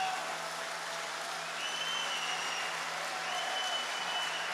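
A large crowd applauds steadily after a speech by Herbert Kickl at the Hartberg Oktoberfest, a dense, sustained wash of clapping heard from a moderate distance, with a faint background tone beneath.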